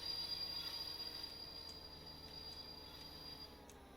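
Train wheels squeal in the video game Stormworks: a steady, high-pitched metallic screech held throughout over a low rolling rumble, fading slightly in loudness.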